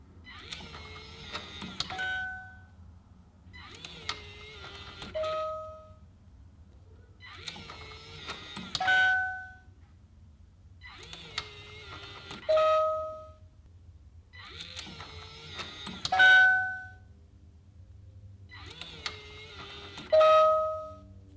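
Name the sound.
smart lock locking chime at different volumes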